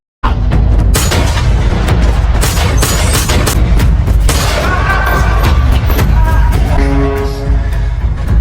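Loud, rapid gunfire crackles through a shootout in a Jason Statham action film, dense overlapping shots and booming bursts continuing nearly without pause for several seconds.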